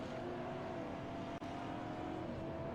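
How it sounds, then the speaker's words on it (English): Race cars in a sim racing game rolling slowly behind the safety car at Sandown; a steady, moderately loud engine drone with faint tonal hum holds throughout, broken by one brief dropout midway, with no talk. "you can hear them clutching already as we roll around on the safety car"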